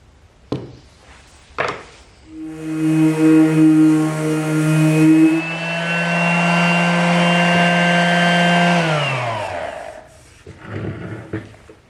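A power sander works over a vintage wooden shoe shine box. Its motor rises to a loud, steady whine for several seconds, then winds down, with a few knocks before and after.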